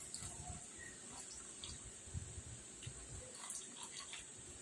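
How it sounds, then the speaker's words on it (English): Long Jing green tea poured low from a gongfu brewing vessel, a steady, faint trickle of liquid with a light high hiss, running continuously and close. "So I'm on a low pour because I'm conserving temperature."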